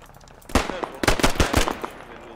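Enemy automatic gunfire in the military shooter Squad, several sharp bursts in quick succession at close to mid range, loud and punchy with a faint voice in the background.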